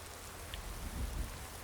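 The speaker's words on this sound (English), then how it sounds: "Oh, well, it's raining." Steady rain in the video game Skyrim hisses softly and evenly, a faint continuous patter with no other sounds.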